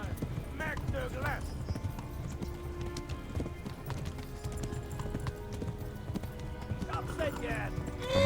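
A horse gallops in the medieval game Kingdom Come: Deliverance, its hooves drumming in a steady clip-clop rhythm, with someone talking over the galloping much of the time.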